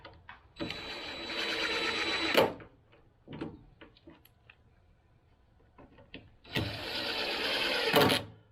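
A screw being driven back into a hidden deck fastener on Fiberon Symmetry composite decking, heard as two sustained whirring bursts a few seconds apart, with soft clicks and handling noises between, close and without talk.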